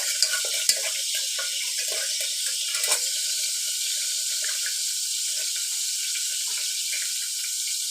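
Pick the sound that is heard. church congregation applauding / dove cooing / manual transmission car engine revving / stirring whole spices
stirring whole spices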